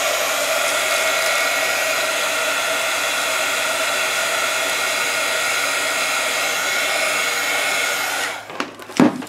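A hair dryer blows steadily and loudly while drying an art journal page, a constant whooshing roar that cuts off near the end with a few handling clicks.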